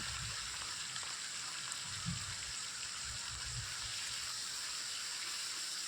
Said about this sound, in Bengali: এবার কড়াইতে সামান্য একটু তেল দিয়ে চিংড়ি মাছগুলো ভেজে নেব।